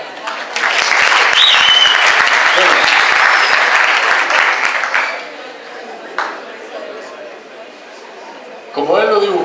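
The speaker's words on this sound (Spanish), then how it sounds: "merece un aplauso" A classroom of students applauds with a dense burst of clapping lasting about five seconds, then it fades into scattered claps and murmuring chatter before a voice speaks.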